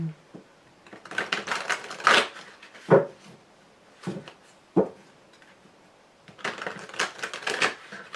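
Tarot cards shuffled and cut at a reading table, giving crisp riffling bursts and a few sharp taps with short pauses between, fairly close and mostly without talk.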